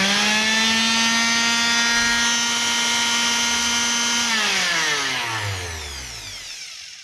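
Bosch GSS 140 orbital sander, a 220-watt tool, runs alone with a loud, steady whine for several seconds, then is switched off and its pitch falls away as the motor spins down.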